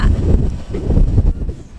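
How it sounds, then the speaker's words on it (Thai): Strong wind in an Icelandic snowstorm batters the microphone in loud, gusty low rumbles that swell and dip over a couple of seconds. "ลมแรงแค่ไหนขอให้ดูรถรถยังเคลื่อนเลยอะ"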